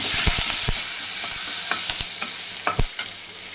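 Curry leaves, urad dal, dried red chillies and asafoetida tempering in hot oil, a continuous close sizzle punctuated by sharp pops and crackles, several clustered near the end.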